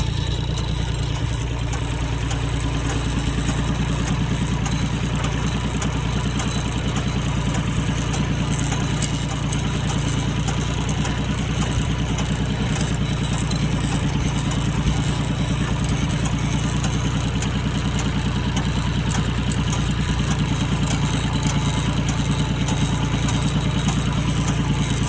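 Farm tractor engine idling steadily and loudly throughout, a continuous low rumbling drone with no breaks and no talk.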